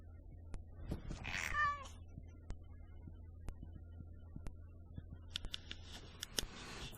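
A pet cat gives a short, clear meow in a quiet room, followed later by fainter, higher mewing sounds, with scattered light clicks and a low hum in between.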